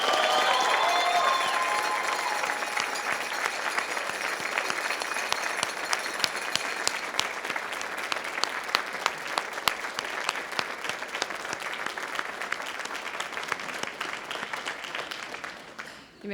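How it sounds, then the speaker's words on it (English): Sustained applause and cheering from graduates honoring their families at a university spring convocation, a dense, steady wash of clapping from a large crowd that holds for over fifteen seconds before tapering off abruptly. "Now it's your turn to honor them with your cheers and applause"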